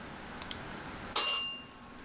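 A single bright bell strike sounds in a house's back bedroom, ringing out and decaying over about half a second after faint earlier taps.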